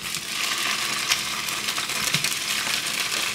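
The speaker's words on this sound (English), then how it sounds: "It is sizzling!" Food fries in hot oil in a kitchen, giving a steady, dense hiss and crackle with scattered sharper pops and spatters, close and continuous without talk.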